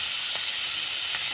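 Onions sizzle steadily in hot oil in a pan while fish curry is cooked, a loud, close, continuous hiss with no talking.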